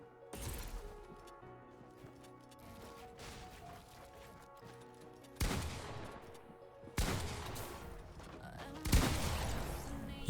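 An opponent's gunfire in a video game comes as scattered sharp shots and several loud bursts that crash in at intervals, with quieter clicks and mechanical noise between them.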